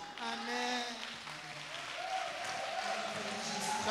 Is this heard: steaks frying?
no